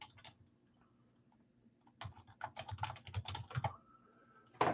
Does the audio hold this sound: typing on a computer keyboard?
yes